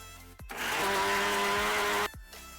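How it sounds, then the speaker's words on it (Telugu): A kitchen mixer grinder whirs loudly as it blends eggplant, tomato, garlic cloves and coriander for chutney, one steady high-pitched burst of about two seconds starting and stopping abruptly. "ఇది మిక్సీ చేద్దాం"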